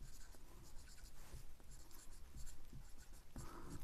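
A pen scratches out numbers by hand on paper, continuous close strokes with small taps and pauses, fairly quiet.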